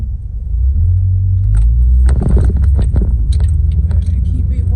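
A black car speeds past on the road with a close, heavy low rumble that swells and holds, while a person talks over it.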